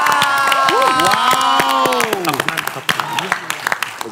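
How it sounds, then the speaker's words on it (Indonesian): A game-show studio audience at a national-knowledge quiz final cheers and claps, with a held chorus of voices and whoops that fades into scattered applause near the end. "Tepuk tangan lu dong."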